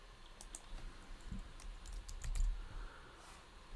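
Computer keyboard typing and mouse clicks while configuring permission sets in identity management software: scattered sharp taps, fairly faint and close, with no voices.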